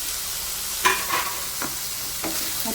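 Onion, curry leaves and green chili sizzle in a pan for prawn thokku, a soft steady frying hiss with a few distinct scrapes and clinks of a spoon stirring, no voices.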